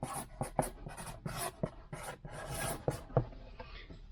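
A pen scratches out a short thank-you note on the bottom of a USPS shipping label in quick, close strokes with small pauses between words.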